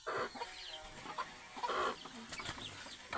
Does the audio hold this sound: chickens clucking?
yes